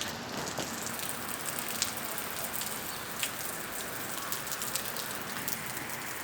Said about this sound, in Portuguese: e tá chovendo, ó.